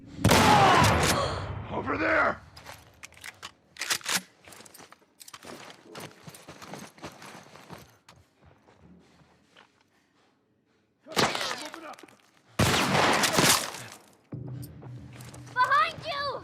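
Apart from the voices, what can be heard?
gunfire in video game The Last of Us Part 1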